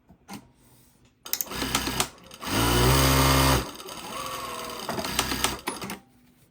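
A Juki DDL-8000A industrial sewing machine runs a double reverse bartack: a short whirring start, a louder sustained stitching run in the middle, then more quick bursts and stops, heard up close with no talking.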